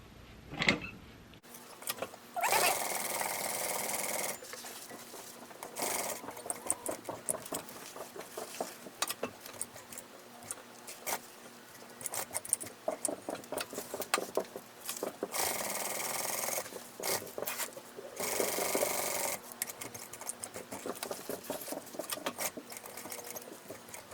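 Sewing machine top stitching around a harlequin bag with a thick foam-padded seam, running in steady bursts with short pauses between runs, close and fairly loud with no talking.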